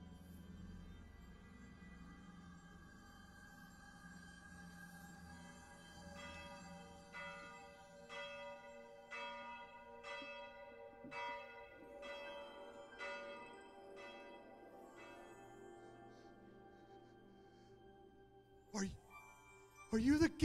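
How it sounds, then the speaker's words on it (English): Church bells toll in a slow, even series of about ten resonant strokes, ringing out over a quiet background in a dramatized Christmas Carol setting. "As the bells started to toll, they awoke Scrooge."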